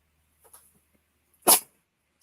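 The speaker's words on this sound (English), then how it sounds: "I knew I was going to sneeze." A single sharp sneeze bursts out close and loud, brief and explosive, with faint breathy noises just before it in an otherwise quiet room.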